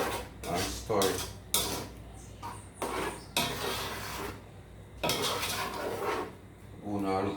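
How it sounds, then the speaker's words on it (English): Shrimp pasta and cheese stirred in a cooking pot, with repeated scraping and clinking of a utensil against the pot in uneven bursts, close and fairly loud, alongside brief moments of talk. "you can just put in the pasta now and stir it."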